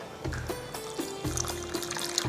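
Water pours steadily into a cooking pot holding rice with ginger, fenugreek, pandan leaves and coconut milk for nasi dagang, a close, continuous splashing fill with a faint ringing tone.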